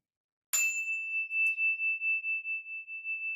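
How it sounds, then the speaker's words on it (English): A single bell, as used to open a mindfulness meditation, strikes once and leaves a clear, steady ringing tone that sustains and slowly fades, with no talk over it. "we can enjoy the sound of the bell as it fades."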